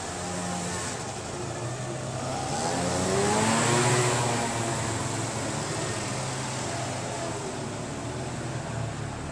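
A car passes along a narrow street in Sitges, Spain, its engine swelling as it approaches and fading away over several seconds above a steady outdoor background, with no voices.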